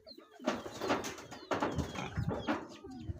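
Pigeons coo and flutter close by in several overlapping bursts, with soft wing flaps and calls filling the short stretch alone without talk.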